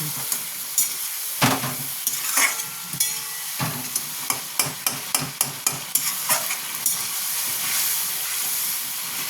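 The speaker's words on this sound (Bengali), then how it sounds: "এটা একটু ভাজা ভাজা কষা করে নিই।" Tomato masala for fish curry, with potatoes and drumstick stalks, sizzles in a pan under a run of sharp, rhythmic spatula scrapes and stirs, close and fairly loud, with no voices.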